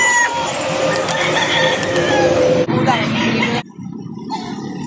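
Many chickens crowd a busy livestock market in Victoria, Laguna, with dense clucking and crowing from close by running throughout, over steady market bustle and someone talking.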